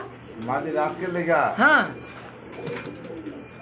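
Female pigeons at a pigeon sale, where birds are sold in pairs with eggs and chicks, coo in low rounded bursts close by, mixed in with steady conversation between men.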